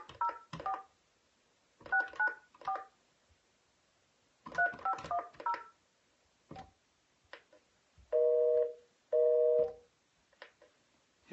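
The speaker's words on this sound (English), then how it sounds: "I know I'm calling on a landline, on a dinosaur phone, but who's got a busy signal?" A landline phone keys touch-tone digits in quick clusters, then two steady busy-signal tones sound clearly, each lasting under a second with a short gap between them.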